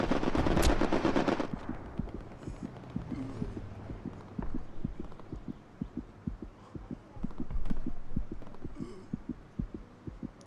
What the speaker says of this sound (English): I've got a strafing run on your right shoulder.